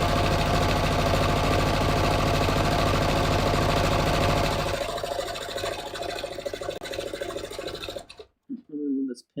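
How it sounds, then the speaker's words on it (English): A sewing machine stitches denim for a pair of jeans with a loud, steady mechanical whir. It eases off partway through and cuts out near the end, leaving brief gaps. "I'm stitching just inside the line because this is the outside edge of the pattern piece."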